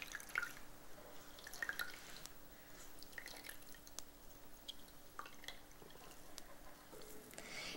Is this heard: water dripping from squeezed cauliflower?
yes